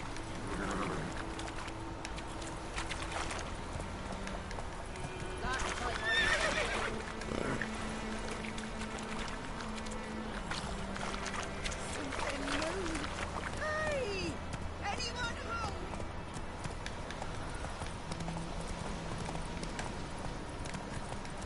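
Roach, a horse in The Witcher 3 video game, gallops with steady rhythmic clip-clop hoofbeats and lets out occasional neighs and whinnies, with someone speaking over the game sounds throughout.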